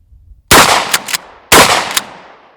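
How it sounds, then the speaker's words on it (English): A pump-action shotgun fires slug rounds twice, a second apart: each loud, close blast trails into a short decay, and quick clacking from working the pump follows the first shot. "We'll fire a couple of rounds, and these are slugs"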